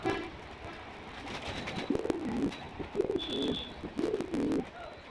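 Pigeons cooing softly in a pigeon loft in repeated low, throaty bursts, with faint chirps and light background clatter.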